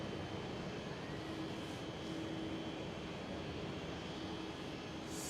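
A Boeing 787-10 at Amsterdam Schiphol airport gives a steady, broad jet roar that holds at an even level throughout, heard from a moderate distance with no voices.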